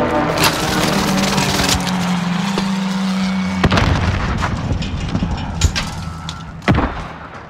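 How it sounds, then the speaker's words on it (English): Enemy precision airstrike in the shooter game Call of Duty Warzone: loud, dense blasts and booming impacts rumble over a sustained roar, with sharp explosive hits scattered through the later seconds. "Enemy precision airstrike."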